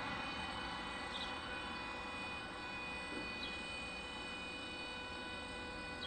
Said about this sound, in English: As we check out this 717 arriving.